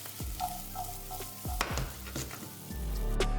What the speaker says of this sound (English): I fry some chickpeas up with some olive oil, chili powder, paprika,